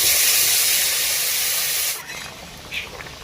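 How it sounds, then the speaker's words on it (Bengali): Water poured into a hot pan of potatoes and papaya for boiling: a loud rushing hiss of steam that drops sharply after two seconds to a softer simmering sizzle with a small spurt, no talk. "আলু পেঁপে সেদ্ধ হওয়ার জন্য পরিমাণ মতো জল দিয়ে দেব।"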